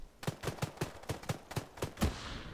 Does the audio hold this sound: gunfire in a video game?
yes